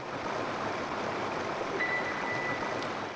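A waterfall in the video game Tomba! 2 gives a steady, full rush of cascading water that holds evenly throughout, with no voices.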